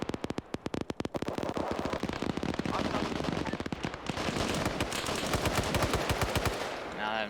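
Rapid bursts of automatic gunfire echo down from up a slope in a military video game, dense sharp cracks stacking into a loud sustained barrage with brief gaps, later thickening into continuous overlapping fire.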